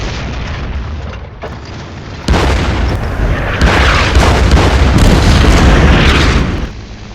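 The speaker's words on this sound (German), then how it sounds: "Установить угол! Открыть огонь! Огонь!" Tank cannon fire in a stop-motion Eastern Front battle in Belorussia with 1/72 scale Airfix models, a loud booming blast that rolls into a sustained, rumbling barrage of explosions before fading.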